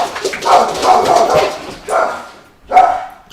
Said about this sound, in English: And dog's going crazy.